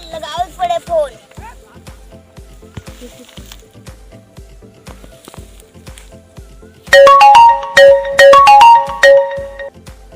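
A phone ringtone bursts out loudly in short repeated melodic phrases after a stretch of quieter sounds and a voice at the start.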